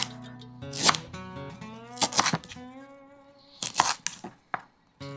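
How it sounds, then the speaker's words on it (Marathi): A knife roughly cuts fresh galangal on a board for Thai green curry paste, a few sharp, loud thunks spaced unevenly over a quiet background, with no talking. "हे जे गलंगल आहे हे सुद्धा मी असं रफली कापून घेतो"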